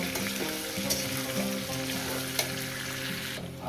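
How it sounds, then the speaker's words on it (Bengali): Potatoes seasoned with salt fry in a pan, giving a steady, dense sizzle that runs evenly throughout at moderate volume, with a few faint clicks and no voices. "এটাকে সাত আট মিনিট ধরে ভাজবো"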